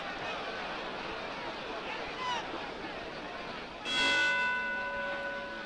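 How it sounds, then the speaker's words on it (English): A boxing ring bell rings once near the end to close the first round, a bright ringing tone with a lingering decay, over the steady murmur and hubbub of a fight crowd. "And there's the bell to end the first round, and Cooper even got a punch in late"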